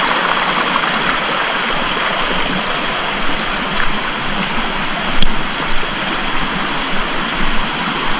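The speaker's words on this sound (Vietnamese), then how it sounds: "Này suối đẹp thật" A forest stream flowing through the woods, producing a loud continuous rushing and gurgling of water with small splashy surges.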